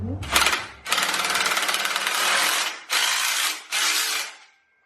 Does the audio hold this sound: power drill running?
yes